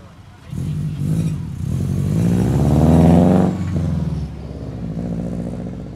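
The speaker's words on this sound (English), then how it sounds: "The Boxer Burble, nice." A tuner car's boxer engine burbles loudly and close at the Caddens Corner Cars Under The Stars meet in Sydney. The deep exhaust swells to a peak, then settles back to a rumbling idle.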